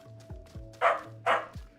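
A corgi puppy gives two sharp, loud barks about half a second apart, close to the microphone, with faint softer yips and sniffs around them and no talking.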